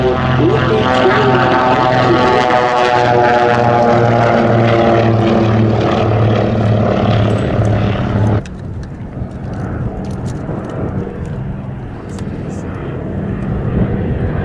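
A propeller aircraft taking off on the runway at Sywell Airshow, a loud, steady engine drone with strong harmonic whine that cuts off abruptly, leaving quieter rumbling and wind; an announcer talks over the engine noise.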